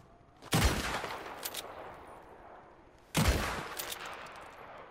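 Two loud, sharp gunshot bursts in a video game, aimed at Micah, each a crack with a short rattling tail, spaced a few seconds apart and close.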